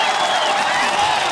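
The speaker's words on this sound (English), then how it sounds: "give yourselves a round of applause" A conference audience at a global immunization assembly claps in a dense, steady burst of applause. It sounds loud and sustained throughout.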